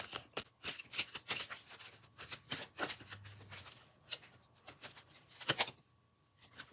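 Tarot cards are shuffled by hand in close, repeated papery riffles and slaps that come in quick bursts, then stop abruptly near the end.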